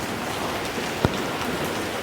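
Steady winter rain hisses as a continuous wash of noise, with one brief sharper tap partway through and no voices.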